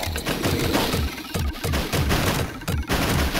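Rapid bursts of gunfire from the Sega CD game Cadillacs and Dinosaurs, dense and continuous with repeated shots layered over game music and effects.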